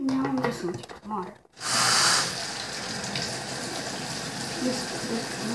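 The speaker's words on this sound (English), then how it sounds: "Now I'm just going to put water." Water running from a tap, used to wet hair during a morning routine, rushes loudly for about a second after talk, then continues as a softer steady flow beneath a voice.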